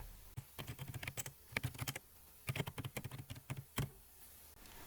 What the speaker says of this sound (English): And now you can type.